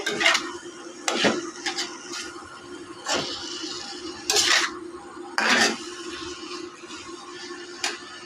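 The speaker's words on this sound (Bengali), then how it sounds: "মোচাটা দিয়ে আমি এখন সুন্দর নেড়ে সেড়ে কষিয়ে" Banana blossom is sautéed and stirred in a pan, with a handful of sharp metal scrapes and clinks over a faint background hiss, close by and with no voices.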